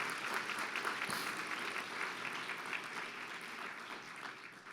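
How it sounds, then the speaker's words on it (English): Audience applause at an Economic Club of Indiana luncheon, a dense, sustained round of clapping from a large room that stays full throughout and fades slightly toward the end. "We're gonna give you another big round of applause"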